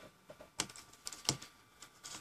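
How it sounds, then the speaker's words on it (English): Keys pressed on the slide-out keyboard of a repaired myTouch 4G Slide phone, a handful of faint, sparse, irregular clicks and taps in a quiet room. "most importantly for this phone, the keyboard."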